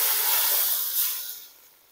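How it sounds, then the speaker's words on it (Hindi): A loud burst of hissing sizzle as hot tempering oil hits minced meat curry, strong at first and then fading away over a couple of seconds. "ये देखें, फ़ौरन इस तरह से इस पर तड़का डाल देंगे।"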